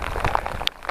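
Rain and hail falling on a mountain trail in the Uinta Mountains, with scattered close patters and taps of drops and small hailstones striking nearby surfaces in a short burst.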